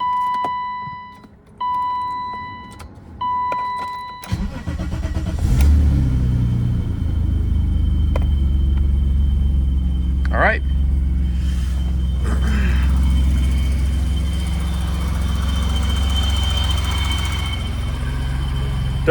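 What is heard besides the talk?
BMW M30 engine starting and idling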